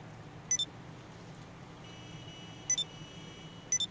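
Phone busy tone in GTA 5 with the Pakistan mod, heard as three short paired electronic beeps spaced a couple of seconds apart, faint over a low steady background hum.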